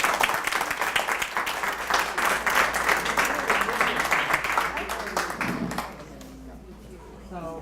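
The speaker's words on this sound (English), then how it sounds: "one more round of applause for the artists and Pat." Lecture audience applauding at the close of an art talk on baskets, a dense steady patter of many hands for about six seconds that then fades out, leaving a quiet room with faint voices near the end.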